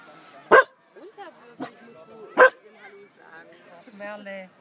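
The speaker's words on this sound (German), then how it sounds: "schau mal, wie dein Hund bellt" A dog barks sharply twice, with softer yips and whimpers between, while a person talks nearby.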